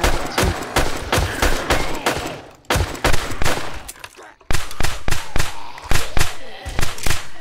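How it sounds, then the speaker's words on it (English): Rapid bursts of gunfire from 7 Days to Die (modded), sharp loud reports in quick irregular volleys with a brief lull near the middle, then steady repeated shots again. "I'm shooting in front of you."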